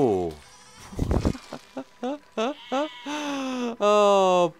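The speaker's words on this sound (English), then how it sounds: "Oh, poor sheep." Sheep in the video game Besiege bleating in a series of short wavering cries that build into longer, louder drawn-out bleats, with a human gasp and exclamations mixed in.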